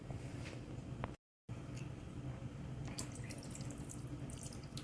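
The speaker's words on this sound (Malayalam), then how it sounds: "ഇനി നമുക്ക് ഇതിലേക്ക് പുളിവെള്ളം ആഡ് ചെയ്യാം." Tamarind water is poured into Kerala sambar in a pressure cooker, a soft, faint trickling and splashing of liquid heard close up with no talk, with a short dropout partway through.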